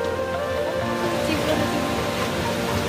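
A small waterfall in Nepal gives off a steady broadband rush of falling water, close and constant across the whole stretch, with no clear speech over it.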